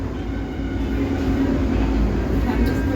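A metro train rumbles along with a continuous loud roar and faint clatter of wagons, heard from inside or close by without a break.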